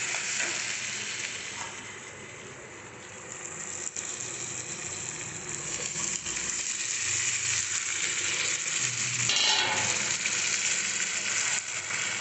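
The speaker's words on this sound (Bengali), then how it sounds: "এবার যে মাংসটাকে দই মাখিয়ে রেখেছিলাম, মাংসটা দিয়ে মশলার সঙ্গে কষে নেব।" Goat meat marinated in yogurt sautéing with ground spice paste in a pan, a steady broad sizzle with occasional scraping stirs throughout, moderately loud and close, no voices.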